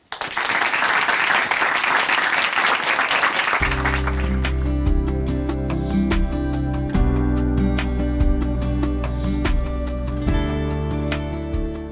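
An audience at a church broadcast program welcomes a speaker with loud, dense applause for about four seconds, then a steady sustained music bed with a regular beat takes over and continues alone.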